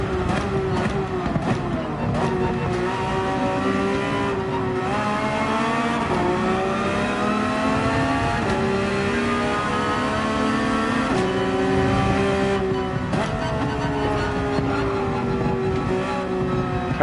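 Race car engine in Gran Turismo 7 on the last lap at Deep Forest, droning loud and steady throughout with rising and falling revs through gear changes and corners, occasional tire squeal, no talk.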